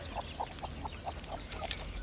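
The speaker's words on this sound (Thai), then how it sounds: "นี่อันนี้ไก่นะคะ" Chickens on a small backyard farm raised alongside fish and frogs, giving soft, short, evenly spaced clucks about eight times in quick succession against a steady background hum.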